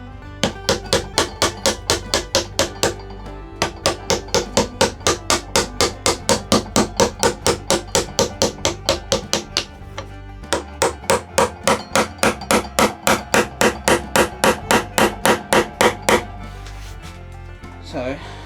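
A hammer taps a hardwood block into a workbench dog hole, striking about twice a second in a long, steady run of sharp, loud knocks with a brief pause midway.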